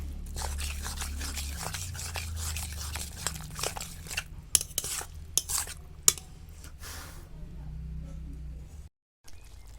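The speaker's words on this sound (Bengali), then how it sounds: "চলো আগে এটাকে একটু নেড়ে দিই" Gravy being stirred in a cooking pot, with repeated scraping and clinking of a spoon against metal over a steady low simmering hum, close and moderately loud, ending in a brief silence.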